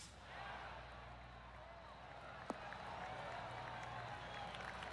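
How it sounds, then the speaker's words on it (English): Spectators on a golf course give a polite golf clap, a soft, steady patter of scattered clapping over outdoor ambience, with one sharp click midway. "Oh, golf clap."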